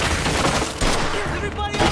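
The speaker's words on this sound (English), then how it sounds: "What was that, a bullet?" Gunfire in the video game Mafia II rattles in a dense, loud burst of rapid shots, mixed with voices shouting.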